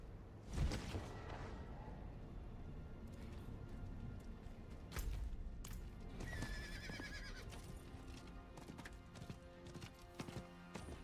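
A horse mount in the video game Diablo 4 clip-clops along while it whinnies and neighs at a few points, with occasional thumps and whooshes among the hoofbeats.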